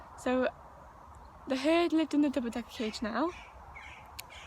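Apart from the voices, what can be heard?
birds cawing outside, likely crows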